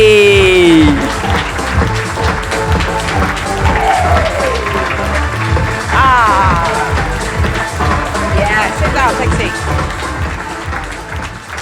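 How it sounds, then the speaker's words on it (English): Studio audience at a live Chelsea podcast recording applauds and cheers for a guest, a steady clapping bed with vocal whoops and voices rising over it, fairly loud throughout. "Give him a round of applause."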